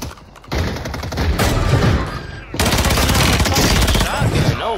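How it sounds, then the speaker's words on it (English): Shotgun fire in a first-person shooter battle royale resurgence match, loud repeated blasts in rapid bursts with dense overlapping gunfire, close and continuous, briefly dropping out midway before resuming. "Shotgun, no wonder."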